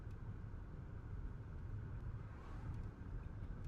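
Inside a soundproofed car in the Vampire the Masquerade game, a low, steady engine rumble blends with a muffled hum of passing traffic, continuous and even throughout with no voices.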